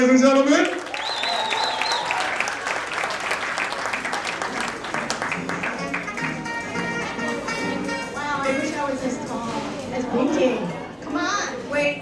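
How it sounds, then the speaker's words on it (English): Audience applause at a fashion and arts event, clapping from a crowd that carries on under a loud announcer's voice and crowd chatter throughout. "Can we clap it up for Chicago East, ladies and gentlemen?"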